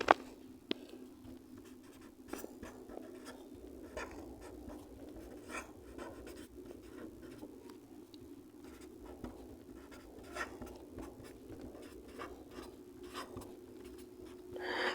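A pen scratches across paper as a trigonometry solution is written out, soft intermittent strokes and taps, faint and close, over a quiet room hum.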